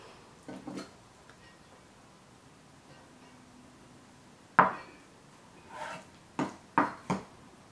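Knife cutting pressed tofu into cubes on a board, a few sharp chops spaced apart, near and fairly quiet, with faint kitchen background between strokes.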